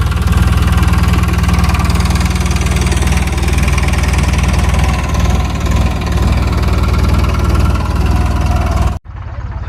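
A heavy tractor engine drones steadily and loudly throughout while pulling a plough through a field, with a low rumbling pulse, before cutting out abruptly near the end.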